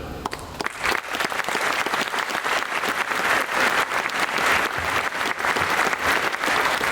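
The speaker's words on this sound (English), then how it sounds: "How about a nice round of applause for FedEx, right?" An audience at a university aviation college ceremony for a donated 727 breaks into sustained, even applause, a dense wash of many hands clapping close and loud.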